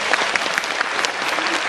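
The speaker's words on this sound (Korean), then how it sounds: "큰 박수 부탁드립니다" An audience applauding an actor at a film screening talk event, a brief dense burst of clapping from a crowd, loud and close.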